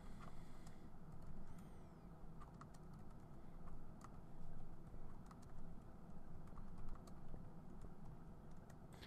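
Quiet, irregular clicking of keys being tapped on a keyboard, in short bursts with brief pauses, over a low background hum.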